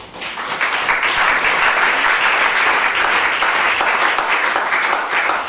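A church congregation applauding during a sermon on King Solomon: dense, loud, sustained clapping from a large crowd that holds steady through the whole stretch, with no clear voices above it.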